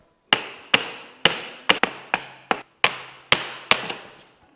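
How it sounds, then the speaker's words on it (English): Hammer blows on a Ford Focus RS in a workshop, nine sharp metallic strikes in a fairly steady rhythm, close and loud with short ringing decay between hits. "Now we're gonna hammer it out."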